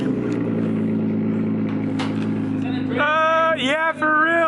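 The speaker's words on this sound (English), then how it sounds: "You want to do a small little startup and a small rev?" An Infiniti G35 with a new exhaust idles with a low steady drone, then revs up in a couple of rising throttle blips close by, with voices briefly nearby.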